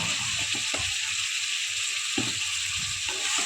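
Spice paste with ground coriander and ginger frying in oil for a bhetki fish dish, a steady loud sizzle with intermittent scraping stirs, close up and without talk.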